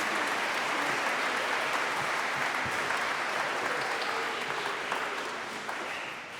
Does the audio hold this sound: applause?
yes